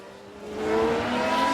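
Race car engine in the F1 Manager 2022 video game as a car spins out, a steady rising engine tone that swells louder partway through, with a faint hint of tire noise.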